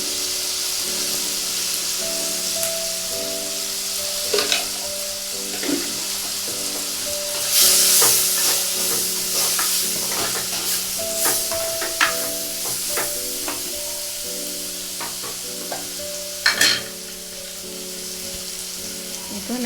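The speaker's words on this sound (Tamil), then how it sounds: "இப்போ தேவையான அளவு மிளகாய்த்தூள் சேர்த்து நல்லா மிக்ஸ் பண்ணி விடுங்க" Shark curry frying in a pan as chili powder is stirred in, with a steady sizzle, scraping spoon strokes and occasional clinks against the pot, close and continuous.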